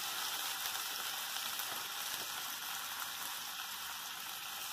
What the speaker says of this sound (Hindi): इसको फ्राई करूँगी गोल्डन ब्राउन होने तक